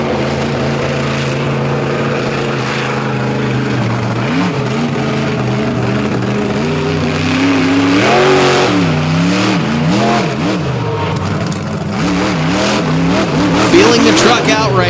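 A monster truck engine on a beach sand course revs and roars continuously, loud and close, rising and falling in pitch as the driver works the throttle, with an announcer's voice running over it.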